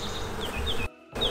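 Honeybees swarm over the frames of an opened hive, a dense steady buzz with individual bees whining past close by, broken by a brief near-silent gap.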